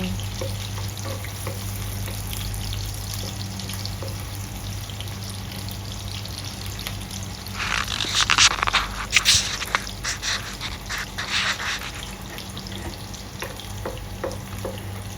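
Onion frying in a pan for chicken humba, a steady sizzle over a low hum that swells mid-way with clattering stirring and scraping, then settles back to a gentle fry.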